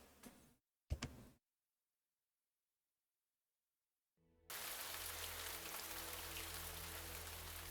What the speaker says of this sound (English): The slight drizzle of the rain outside is making it difficult to see.